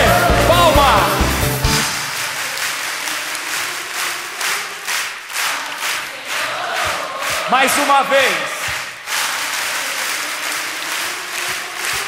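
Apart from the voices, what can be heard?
congregation clapping for Jesus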